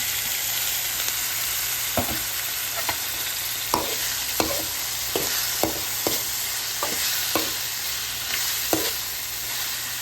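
Shrimp going into a pan with celery for a Filipino shrimp-and-celery spaghetti, sizzling steadily while a spatula scrapes and clacks against the pan in a dozen sharp, irregular strokes; no talk.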